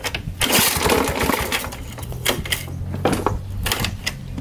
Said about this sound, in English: the first time I have ever tried to start this engine